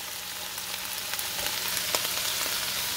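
Chopped onion, celery and carrots sauté in a hot pan, giving a steady, close sizzling hiss with scattered small pops and crackles and no talking.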